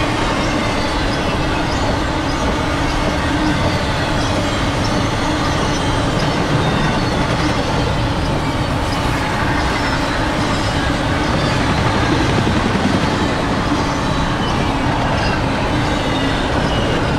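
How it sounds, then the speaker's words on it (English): High-priority BNSF Z piggyback freight train running westbound at 70 mph track speed, a loud, continuous roar of rolling cars and wheels on rails passing close, steady throughout with no talk. "Piggyback train."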